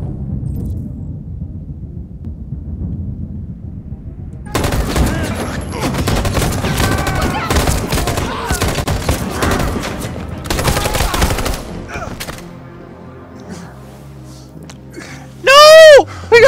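Gunfire in the video game Detroit: Become Human comes as loud, dense bursts of rapid shots lasting several seconds, followed by quieter game sounds and a sharp tonal sweep near the end.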